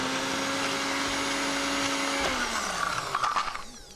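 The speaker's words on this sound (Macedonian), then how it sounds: "може да го изблендираме" An electric blender blends microgreens, its steady motor whine droning evenly before winding down and slowing toward the end, with a rattle as it stops.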